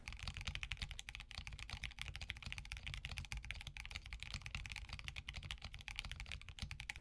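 Rapid continuous typing on a mechanical keyboard fitted with silent Aqua King switches, soft dense keystrokes in a steady stream, close and quiet with no talking.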